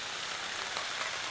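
Steady rain falls in Tawangmangu, a dense even hiss of drops striking surfaces with no voices.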